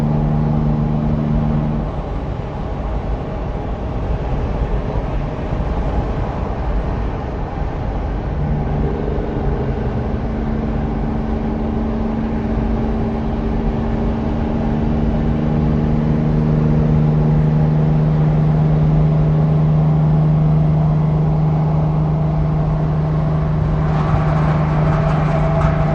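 A Kenworth W900 truck's engine gives a loud, continuous deep rumble with steady low tones that shift in pitch partway through as it pulls, close and unbroken throughout.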